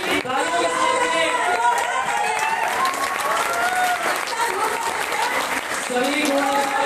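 An audience applauds continuously as a row of Gold Star members is welcomed onto the stage at an IMC event in Ayodhya, with dense, steady clapping throughout and tonal voices or music mixed in.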